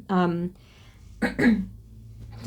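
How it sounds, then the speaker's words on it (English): A person clears their throat twice nearby, a short voiced rasp followed by a second, rougher one after a pause. "Sorry if I clear my throat."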